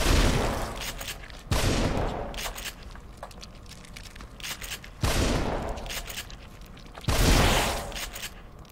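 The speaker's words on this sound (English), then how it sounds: "I'll shoot everywhere." Gunfire rings out in the horror video game The Evil Within, with three loud, sharp bursts spaced a few seconds apart, each trailing into a rumbling decay.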